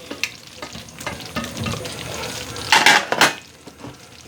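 Shrimp tipped into a pot of etouffee and stirred, with a steady sizzle underneath scraping spoon strokes and a louder burst of frying near the end as the shrimp hit the hot sauce.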